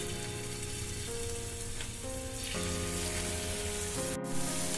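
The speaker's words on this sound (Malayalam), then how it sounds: "ഈ ചെമ്മീനൊന്ന് ഒരു ഷാലോ ഫ്രൈ ചെയ്ത് എടുക്കണം" Prawns shallow-fry in hot coconut oil in a pan, giving a steady, close crackling sizzle under a faint background hum, with a brief click near the end and no talk.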